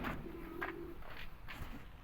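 A kamagar pigeon, a closed-tail breed, coos softly a few times at close range, with low throaty murmurs over a steady background hum.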